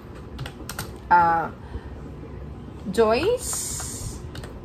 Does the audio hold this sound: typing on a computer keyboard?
yes